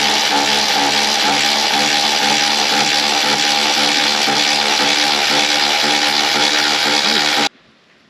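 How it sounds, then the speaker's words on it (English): Power tool driving and tightening a bolt on the battery strap holder of a CFMoto ZForce 800EX, a loud steady whirring buzz held close for about seven seconds before cutting off abruptly. "So now we're going to tighten the bolt we put on the strap holder."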